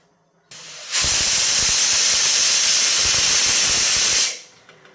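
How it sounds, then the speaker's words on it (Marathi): Pressure cooker on medium heat letting off its whistle, a single loud, sustained hiss of escaping steam lasting about three seconds before trailing off, close and alone. "कुकरचं झाकण लावून ह्याच्या मीडियम आचेवरती दोन शिट्ट्या काढून घेऊयात"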